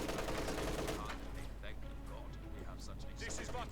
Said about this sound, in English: Conscripts there getting suppressed, caught here by several machine gun bursts.